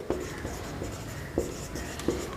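Chalk or marker taps and scratches against a board during a matrices lecture, a few quick strokes with distinct clicks at irregular intervals over quiet room tone.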